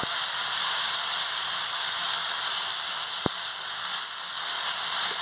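Brined raw jackfruit and tomato cooking in a pan for a Mangalore-style palya, giving a steady, close sizzle and hiss with one brief click partway through.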